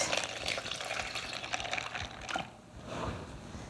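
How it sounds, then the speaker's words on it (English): A quart of milk poured onto butter-coated macaroni, a continuous liquid splashing and filling sound that eases off near the end, close and moderately quiet. "Then you just put in a quart of milk"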